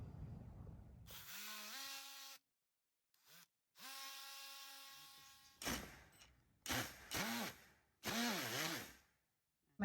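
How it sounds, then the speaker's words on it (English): Power sander working on damaged wooden door trim, whining in several bursts of rising and falling pitch with short pauses between, close and fairly loud. "I'm gonna sand this."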